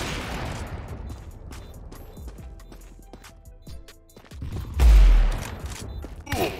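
Gunfire from the video game Counter-Strike 2 crackles in bursts of sharp shots over steady background game noise. Louder, heavier volleys come near the end.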